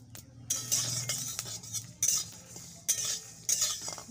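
A spoon scrapes and rattles fenugreek and fennel seeds in a pan as they dry-fry for mango pickle, with short metallic bursts of stirring repeating at close range.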